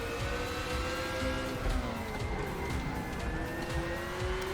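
Race car engine in the RaceRoom Racing Experience video game, a continuous high-revving whine with gear-shift pitch drops and changes, steady and moderately loud, with no talk.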